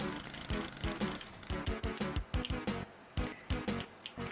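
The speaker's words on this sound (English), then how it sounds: "it's very easy just to take them out with the chainsaw" Chainsaw tearing into large demons in the 1993 video game Doom, a loud continuous buzzing grind broken by repeated sharp impacts and bursts throughout.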